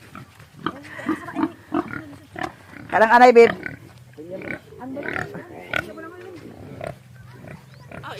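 Domestic pig grunting at a farm, several short rough grunts with a louder burst in the middle, close by and mixed with people talking throughout.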